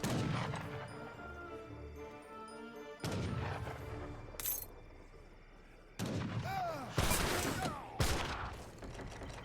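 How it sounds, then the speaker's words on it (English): Gunfire from militia mowing down multiple villagers in an Age of Empires 3 battle, with bursts of musket volleys and crashing impacts in loud clusters, stopping and starting across the fight. "Multiple villagers getting gunned down."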